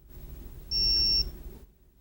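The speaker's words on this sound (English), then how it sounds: "There's that beep again." A single sustained high-pitched electronic beep from a vaccine storage alarm, lasting about half a second, sounding over a low background hum.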